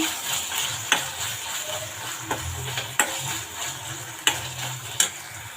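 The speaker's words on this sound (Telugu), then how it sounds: "మనకు ఆనియన్స్ అల్లం వెల్లుల్లి పేస్ట్ అంతా వేగిపోయింది కదా" Onions with ginger-garlic paste fry in a pan for green chicken curry, a soft steady sizzle broken by several sharp clicks of a spoon stirring against the pan, close and without talk.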